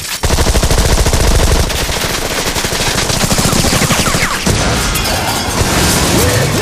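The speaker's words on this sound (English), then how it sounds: "Gatling gun activated." A Gatling gun fires in the Cars 2 video game, a loud, continuous rapid-fire rattle that keeps going with crashing effects layered over it.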